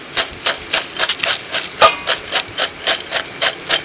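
Crispy homemade kurkure snack crunches up close in a steady, rhythmic series of about a dozen sharp, loud bites, evenly spaced with no talking.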